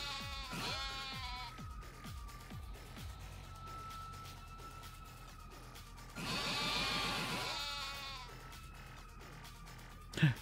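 Several goats in the video game Yakuza: Like a Dragon bleat in a row, wavering nasal cries near and loud, then a long drawn-out bleat later, over a faint steady hum.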